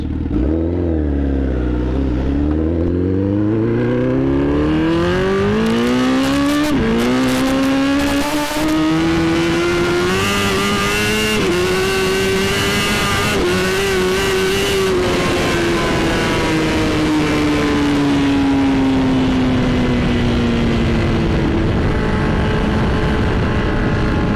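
A Honda CBR 1000RR motorcycle with a broken exhaust revs hard and loud, its raw, unmuffled engine note climbing through rising sweeps, then holding a high, steady roar close to the listener.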